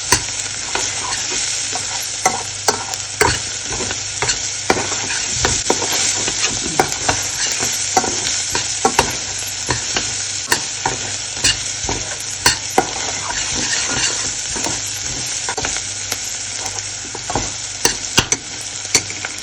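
Fenugreek curry base sautéing in sesame oil, a steady loud sizzle with frequent sharp scrapes and clicks of a spoon stirring the pan throughout, no talk.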